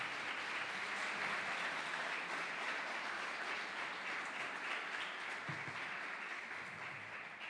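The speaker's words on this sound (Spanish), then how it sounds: "Denle un aplauso al Señor." A church congregation claps in a dense, even wash of applause, sustained at steady loudness and fading slightly at the end, with no voices standing out.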